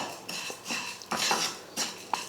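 A spoon scraping and stirring roasted dal with salt and asafoetida in a hot metal pan, with intermittent clinks and scrapes in short bursts, fairly quiet and close.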